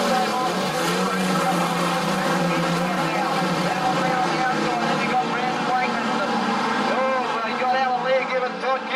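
Street stock race cars roar continuously around Gunnedah Speedway dirt track during a NSW street stocker title heat, a dense layered engine drone with revving swells, with an announcer talking over it.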